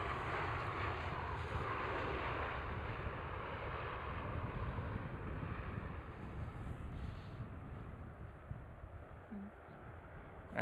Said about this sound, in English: There is the Transavia 737.